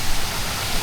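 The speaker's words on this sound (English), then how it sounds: "There's another waterfall up here." A waterfall beside a garden restaurant in Ubud, Bali, gives a steady, full rushing roar with no breaks and no voices over it.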